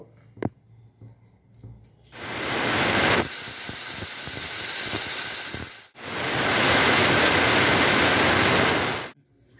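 A pressure cooker cooking chickpeas for chana masala releases loud bursts of hissing steam whistle, two long sustained blasts separated by a brief break, after a few quiet kitchen clicks.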